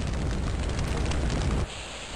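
A boss's fire attack in the video game Hexen 2, heard as a loud, continuous roaring whoosh of flame that cuts off abruptly, leaving a quieter hiss.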